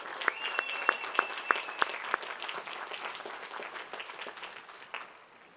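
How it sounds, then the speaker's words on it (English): Scattered applause from a modest crowd at a university commencement ceremony, a few sharp nearby claps at first, then a softer steady patter that fades out. "Let's give them another round of applause."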